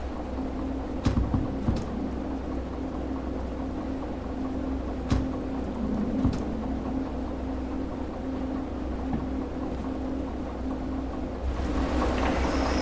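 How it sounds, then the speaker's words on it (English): Heavy rain in the train simulator game Derail Valley, a steady dense downpour hiss over a low rumbling drone, with occasional sharp cracks and a louder swell of rain at the end. "Now the rain has really picked up, which is going to be a problem"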